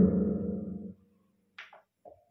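A voice through the number 1 reverb preset on a Kevler mixer during a sound check: a sung or spoken tone for about a second, then a short trailing decay and two brief faint bursts.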